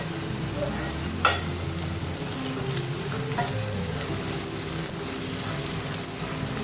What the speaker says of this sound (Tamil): நல்லா அந்த பூண்டு வாசனை நல்லா வர வரைக்கும் கொஞ்சம் வதக்கிக்கலாம் நம்ம.